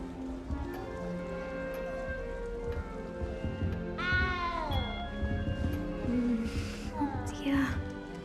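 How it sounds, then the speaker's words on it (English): A cat in the Hogwarts Legacy video game meows twice, with clear rising-and-falling cries, over a soft rain-like background and faint game ambience. "good luck finding that cat"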